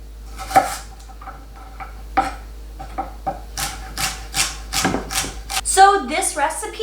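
A kitchen knife dices celery on a cutting board, a run of quick, close, irregular chops and taps with some clatter, while a person talks over the cutting.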